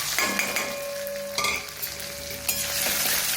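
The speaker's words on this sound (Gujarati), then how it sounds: "ખાલી મસાલાને આપણે સોતે કરી અને ગેસ બંધ કરી શેકવાનું છે" Cumin, fennel, whole spice seeds, dried curry leaves, mint, ginger and chillies sizzle and fry in a little oil in a pan for a Gujarati pickle masala, with steady crackling and a few stirring scrapes close by.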